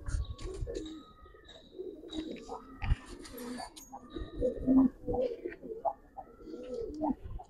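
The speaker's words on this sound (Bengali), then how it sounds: "এই সাউন্ড আপনি তো বুঝতে পারছেন কবুতর মাশাআল্লাহ কত সুন্দর সুন্দর" Giribaz pigeons, a silver black-necked pair of the Bagha type, coo repeatedly at close range in soft low murmurs, with chirps and some rustling and movement around them.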